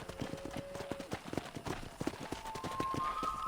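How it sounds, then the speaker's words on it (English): Horse hooves clip-clop in a steady, quick rhythm in the Red Dead Redemption video game, moderately close, with a faint tonal game sound running under them and no talk over the hoofbeats. "Control that horse, will ya?"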